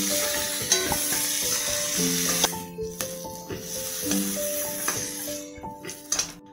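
Hot oil sizzles loudly in a wok after potato and cauliflower pieces finish frying, the hiss rising and falling with stirring and occasional sharp utensil clinks.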